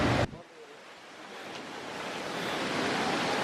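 Rushing water from Sundarijal waterfall in Shivapuri Nagarjun National Park during the monsoon, a broad steady roar close by that builds slightly, after a brief louder burst at the start.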